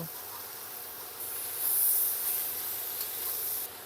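Potatoes and onions frying in a pan with a pinch of salt sprinkled over them. A steady, fairly quiet hiss and crackle runs throughout and grows louder for a few seconds in the middle. No one speaks.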